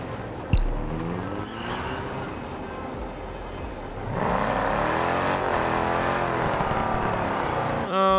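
Car engine in Test Drive Unlimited cruising above 120 km/h as a game soundtrack, a steady droning hum with rising and falling pitch sweeps that grows louder about halfway through, with no speech over it.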